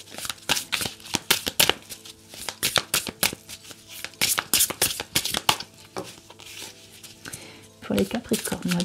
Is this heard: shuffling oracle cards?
yes